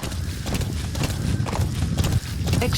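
Horse hooves clip-clopping in the video game Metal Gear Solid V, a steady trotting rhythm of close, fairly loud hoofbeats with some rumbling movement noise beneath.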